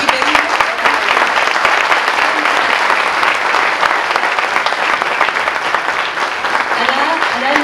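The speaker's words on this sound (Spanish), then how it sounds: "Para todos ellos un gran aplauso" An audience at a wine awards ceremony in Chile bursts into steady, dense applause that holds at a loud, even level throughout, with no clear voices above it.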